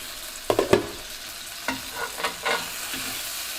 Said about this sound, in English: I think it's time to flip the chicken